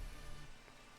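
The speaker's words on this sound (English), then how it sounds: "It's getting a bit wet. Yeah, it's raining." Steady rain falls in the video game Minecraft, a soft continuous hiss that holds evenly throughout at low level, with no voices.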